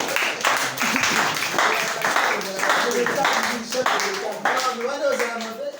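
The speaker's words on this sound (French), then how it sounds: "Acclamez-vous le pasteur." A church congregation claps for the pastor in steady, rhythmic bursts, fairly close and lively, with voices speaking and calling out over the clapping.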